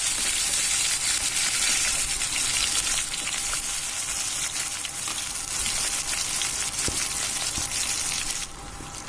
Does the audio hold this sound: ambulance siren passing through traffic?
no